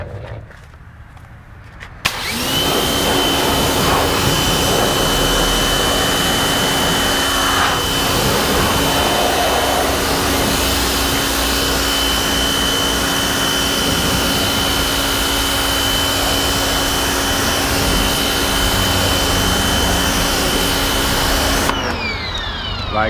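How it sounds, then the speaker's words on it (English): A power washer spraying car tires, starting abruptly after a quiet moment and holding a loud, steady, close roaring hiss with a constant motor whine for about twenty seconds before cutting off. "And then I will grab my power washer."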